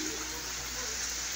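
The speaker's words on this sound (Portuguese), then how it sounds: "Segunda chuva do dia." Steady rain falling in a rural home setting on a cold winter day, a continuous even hiss of drops that stays the same throughout the short stretch, with no talking heard.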